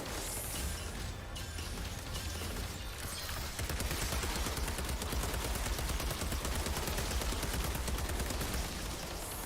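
Machine gun fire in a video game, a sustained rapid stream of shots that starts after a brief lead-in and keeps rattling evenly to the end, dense and steady with no voices.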